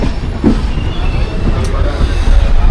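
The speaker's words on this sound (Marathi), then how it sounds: "चला, रत्नागिरीवरून ट्रेन सुटलेली आहे" A train pulling out of Ratnagiri station, heard from inside as a loud, steady rumble of wheels and carriage noise with faint rattles.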